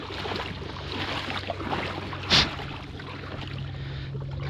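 A 1995–96 Sea-Doo XP personal watercraft engine idles steadily with a low, even rumble throughout, and one brief louder burst partway through.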